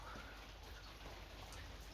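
Rain falls outside on a December day as a steady, dense hiss of drops, faint and continuous with no voices.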